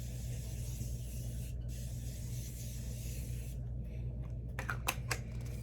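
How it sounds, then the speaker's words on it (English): Hissing spray from an aerosol or pump bottle, a steady stream followed by a few short quick bursts close by, over low background hum. "I set my face with some setting spray"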